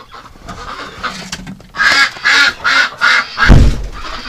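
Ducks on a farm, with a goose among them, give a run of five loud, evenly spaced quacks or honks close by, then a heavier burst. A little bustle sits underneath.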